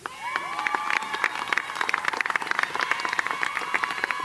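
Audience applause at an afternoon university commencement ceremony welcoming a speaker to the stage, a dense crowd clapping steadily at close range with scattered sharper claps throughout, no talk over it.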